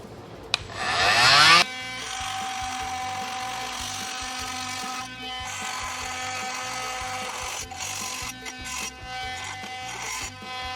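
An oscillating multi-tool cutting just above a hole gives a steady high-pitched buzzing whine, close and continuous, with a brief rising burst at the start and small dips as the blade loads and eases.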